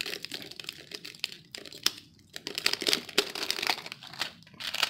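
Thin plastic dust cover on a new spin-on oil filter for a 2017 Toyota Corolla crinkles and crackles up close in irregular bursts, with brief pauses between handling.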